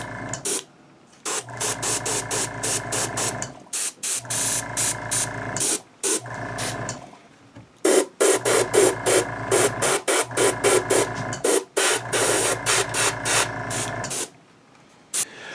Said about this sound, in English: I turn my regulator down, lower the air pressure a bit, so I've got a little bit more of a finer spray